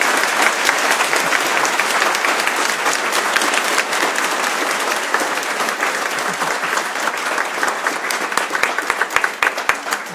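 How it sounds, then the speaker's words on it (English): Students and staff at a university Q&A session applaud a guest speaker, a long, dense, sustained burst of many hands clapping, with distinct individual claps standing out near the end. "Let's have very big applause for Jamie."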